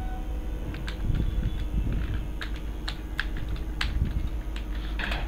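Steady typing on a computer keyboard while entering a search for RAMMap, a run of quick, irregular key clicks close by over a constant background hum, with no voices.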